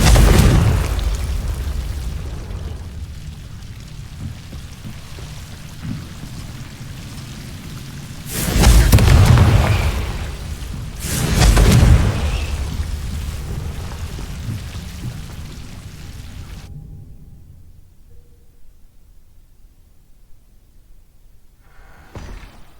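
Two loud fiery blasts from the Confringo spell in Hogwarts Legacy, a few seconds apart, booming over a steady rain-like ambient hiss that fades to near silence at the end.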